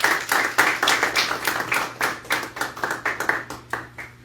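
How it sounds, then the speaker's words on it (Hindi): A church congregation clapping loudly in unison, a strong rhythmic beat of many hands at a steady quick tempo, sharp repeated claps carrying on without a break. "आए खुदा यीशु मसीह के जलाल के लिए जोरदार तालियां बजाएंगे"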